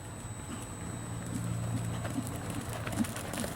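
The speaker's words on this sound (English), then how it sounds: "Now develop that working trot again." A horse's hooves beat out a working trot on an arena surface, soft and fairly distant, with regular thuds and a low, steady background hum.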